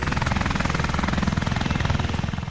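A Turkish T929 heavy attack helicopter thuds steadily overhead on a test flight near Ankara, its rotor chop fast and rhythmic over a loud, continuous engine whine.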